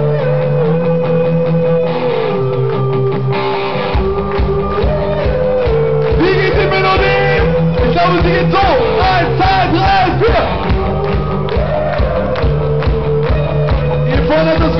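A large concert crowd sings along loudly with a band, massed voices carrying the melody over steady drums and instruments, with occasional cheers rising out of the singing.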